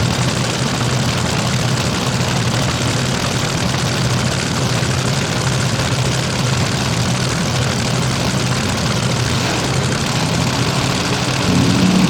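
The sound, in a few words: front-engine nitro methane top fuel dragster engine firing up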